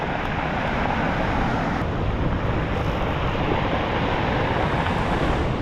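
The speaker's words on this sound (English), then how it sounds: "Big wave coming." Big ocean waves crash and surge on a rough, violent shoreline, a loud continuous roar of surf with wind buffeting the microphone throughout, no voices.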